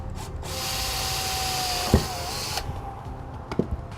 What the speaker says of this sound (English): I'm going to use a 3/4 inch hole saw to do this.